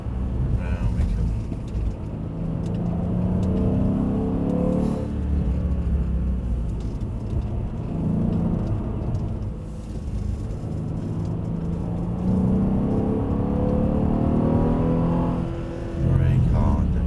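A car engine during a driving lesson hums and swells steadily as the driver eases onto the gas, a low rumbling drone rising and falling across the drive without any audible talk.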